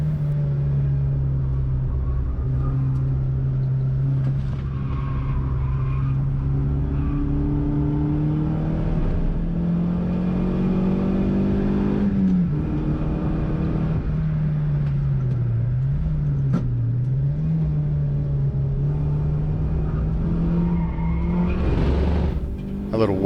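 A Toyota Vitz laps Pukekohe race track at a track day, its engine droning loud and steady in-car, the pitch rising and falling as it accelerates and brakes, with a brief drop through a corner near the end.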